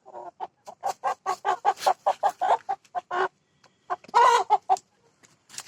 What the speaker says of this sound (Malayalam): പൊക്കോ പൊക്കോ, നിന്നെ ഞാൻ പിടിക്കൂല, നീ എൻ്റെ കോഴിയാ